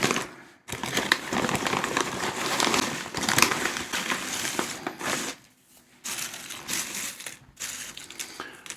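Thin, salty potato chips poured from a bag onto a paper towel, a loud, close crinkling and crunching rattle in several bursts separated by short pauses.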